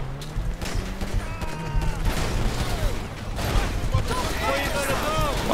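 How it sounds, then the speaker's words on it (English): Enemy gunfire during a GTA 5 Online mission, with scattered loud shots and bursts throughout, mixed with game noise and someone talking over it. "They see us now. They started shooting at them."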